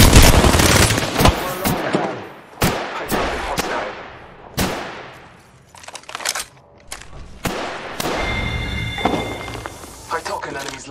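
Rapid bursts of gunfire in the battle-royale shooter Apex Legends on Nintendo Switch, sharp close shots in quick volleys with echoing tails, mixed with in-game character voice lines.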